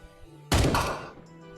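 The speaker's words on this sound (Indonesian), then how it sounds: "itu kayak suara tembakan guys." A single sharp video game gunshot cracks out and fades into a short echoing tail, with quiet background tones before and after.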